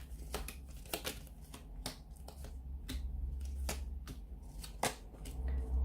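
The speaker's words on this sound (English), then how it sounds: "So we'll give the cards a shuffle." Brisk riffling and snapping of a deck of cards being shuffled several times, close up and fairly quiet.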